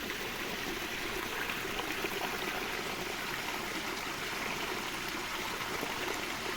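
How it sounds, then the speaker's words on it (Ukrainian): Water flows in a steady, even rush with no pauses, a soft continuous trickling stream heard alone at low level. "Нехай водичка вам допомагає."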